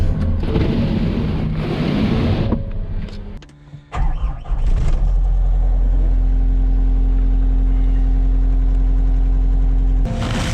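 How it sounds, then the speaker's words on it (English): A snow-covered truck, frozen up on a cold morning, starts and settles into a steady low idle to warm up, a continuous deep engine hum after a burst of rustling and mechanical noise, with a short rev near the end. "Let's get this truck warmed up."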